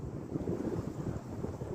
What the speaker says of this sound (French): il y a du vent, le vent s'est levé